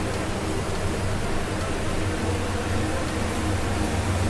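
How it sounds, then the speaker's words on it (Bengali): Chopped onion sizzles and fries steadily in a pan while being cooked for potoler dorma, a dense, even crackling hiss that stays loud and constant throughout with no voices. "পেঁয়াজটা ফুটছে দেখাবো।"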